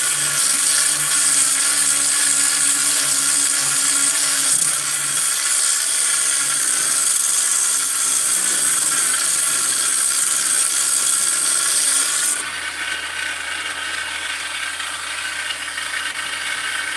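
A power tool grinds steadily against an engine intake port with 50-grit abrasive, a loud high whine that holds for about twelve seconds before dropping to a lower, slightly quieter running pitch.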